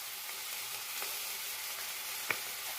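Squash frying with tomato, onion, garlic, black pepper and seasoning powder in beef oil gives a steady, soft sizzle, broken by a few faint scrapes and clinks of stirring.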